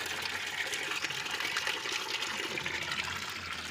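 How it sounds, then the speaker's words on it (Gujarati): A hose runs water into a bucket, giving a loud, constant gushing stream that stays steady throughout with no talking. "જો નળી ઉલી ના થઈ જાય, ડોલ ભરાઈ ના રહે"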